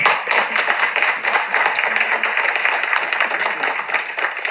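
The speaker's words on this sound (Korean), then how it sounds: "박수 한번 치죠." A room of delegates at a housing association meeting breaks into applause, a few seconds of brisk, fairly close clapping from a modest group of hands.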